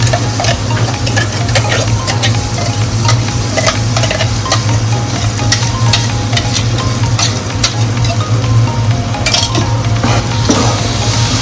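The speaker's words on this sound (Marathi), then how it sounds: "पण चांगलं तेलावर परतून घ्यायचं आहे." A Malvani prawn curry base paste of coconut, onion and tomato fries in hot oil in a pan while it is stirred, giving a loud, continuous sizzle with frequent scraping and clinking from the stirring.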